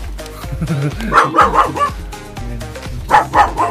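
A dog barks several times in short, sharp bursts, close by, with brief pauses between groups of barks.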